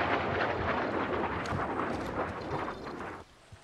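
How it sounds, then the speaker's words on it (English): Rumbling explosions in the video game Warzone roll together in a heavy, continuous blast noise that stays loud for about three seconds, then drops off abruptly to near quiet with a faint thump after. "Oh, these are the explosions."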